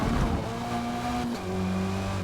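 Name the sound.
race car engine in Forza Motorsport video game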